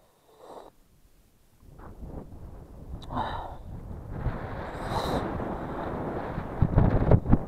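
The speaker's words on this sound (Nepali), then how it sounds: "अम्बो हावा त घुमाइदिँदो रहेछ" Strong mountain wind on the high road from Tsongmo to Zuluk roars and buffets the microphone in gusts, building louder toward the end, with a few brief breathy sniffs early on.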